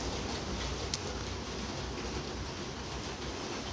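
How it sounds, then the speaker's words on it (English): An OO gauge model train, a Mallard or Flying Scotsman locomotive, runs around a layout loop with a steady low rumble and faint rolling rattle, one brief click near the start, no talk. "The Mallard there is running on the inner loop, the Flying Scotsman on the outer loop"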